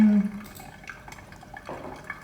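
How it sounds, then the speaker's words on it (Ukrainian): Water poured over coffee grounds while brewing with orange and lime, a soft continuous trickle with faint drips and small splashes, close and fairly quiet, no talk. "Вливаємо ще."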